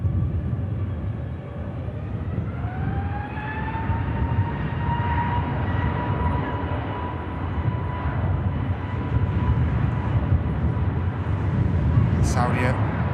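Canadian Air Force Hercules turboprop engines spooling up at an airport, a broad steady roar with a slowly rising tonal whine, heard from a distance.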